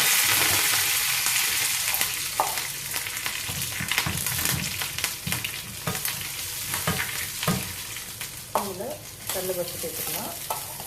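Mustard seeds, ginger, green chili, asafoetida and curry leaves sizzle loudly in hot oil for a South Indian sundal tempering, with steady close frying crackle, spattering pops and occasional stirring scrapes throughout.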